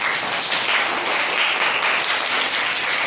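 Children applauding together in a primary school classroom, a dense continuous patter of small hands clapping for about three seconds, even and moderately loud with no speech.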